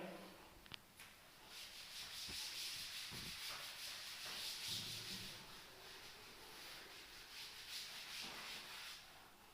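Dry rubbing of a duster wiping writing off a classroom board, a steady scraping swish that runs for several seconds, close and faint, with no talking.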